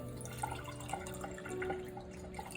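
Tap water trickles and drips as it is poured into a cup for a water test, soft splashes and small drips over a faint background hum, quiet and close.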